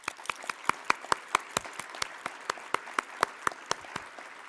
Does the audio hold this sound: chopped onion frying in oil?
no